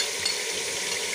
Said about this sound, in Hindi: अच्छे से हमारा मसाला जो है वो अच्छे से भून के तैयार हो जाए।